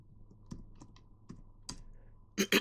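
Sparse clicks from a computer keyboard as single keys are pressed one at a time, ending in a quick burst of louder keystrokes, close and quiet.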